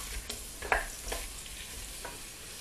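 Spices fry quietly in a pan while being stirred for a duck pineapple curry, a faint low sizzle broken by a few soft scraping strokes.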